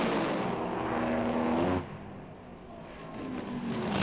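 Top Fuel dragster blasting down the drag strip in a semi-final run at East Coast Thunder, a loud ragged engine roar with a rising tonal whine that drops sharply as it shuts off, then a lower trailing rumble.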